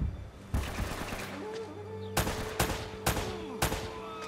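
Gunfire in the action game Uncharted, loud evenly spaced shots cracking over a constant background hum and ambient game noise, about five strong reports in quick succession.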